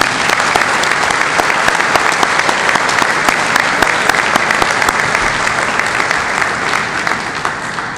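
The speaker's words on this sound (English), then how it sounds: "Please give them a round of applause." Honorees at a 2019 Hall of Fame ceremony draw loud, dense applause from a large audience, sustained and even for the whole stretch.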